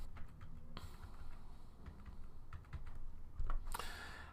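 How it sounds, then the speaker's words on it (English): Quiet computer keyboard typing of a telephone number, sparse irregular key clicks with a few sharper taps, close and faint against a soft room hum. "and we type that number in"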